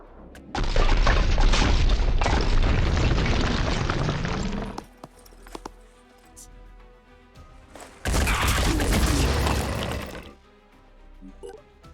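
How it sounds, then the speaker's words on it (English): A grenade blows up in the turn-based tactics game Phoenix Point, a loud sustained roaring blast lasting several seconds, followed by a quieter stretch and a second long, heavy rumbling burst. "That or just blow up the grenade."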